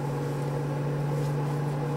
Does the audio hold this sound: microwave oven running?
yes